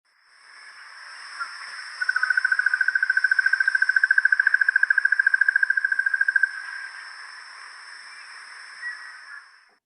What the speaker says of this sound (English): this particular barbet has a very distinctive call.